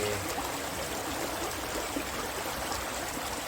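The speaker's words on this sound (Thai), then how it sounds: "คือถ้าเราปล่อยให้น้ำไหลก็จะไหลเรื่อย ไม่ไม่ได้แรงมาก" Stream water flowing steadily from the Khlong Bang Phai reservoir, a gentle, continuous broadband rush of clear water running near and alone without a break.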